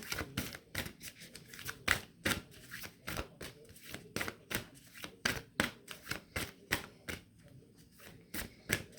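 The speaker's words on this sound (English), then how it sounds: "One more shuffle and I'll choose the top card." Oracle cards are shuffled in quick repeated riffles, a crisp rhythmic flutter of snaps close by, with no talking.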